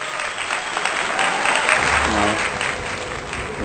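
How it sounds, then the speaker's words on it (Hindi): Loud, continuous audience applause at a Hindi poetry recital, honouring poet Mridul Sharma, sustained throughout with a faint voice briefly audible beneath the clapping. "जोरदार तालियां मृदुल शर्मा जी के लिए।"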